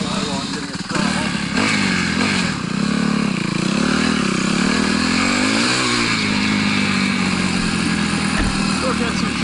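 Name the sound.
RMZ 250 dirt bike engine revving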